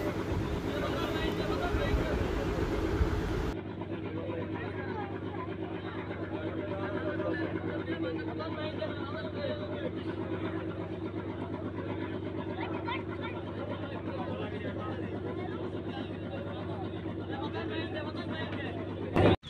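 Launch ghat at Ulania, Kaliganj, a steady low drone of boat engines with a continuous rumble throughout, and a person talking over it at the start.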